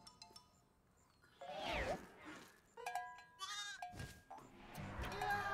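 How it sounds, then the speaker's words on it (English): Sheep bleating in the video game Spyro Reignited Trilogy, a few wavering cartoonish bleats with game sound effects between them, fairly close and clear. "Look at that sheep."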